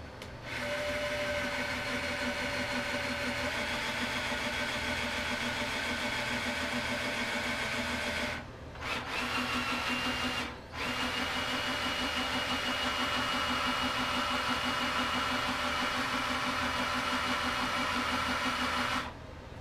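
A screw extractor grinds stripped screws out of a DDR arcade cabinet with a steady, loud power-tool drone, broken by two brief pauses midway before resuming to the end.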